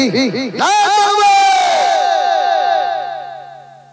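Large crowd at an outdoor Islamic religious gathering shouts a loud, unified chant in one sustained burst of many voices, which fades away over several seconds.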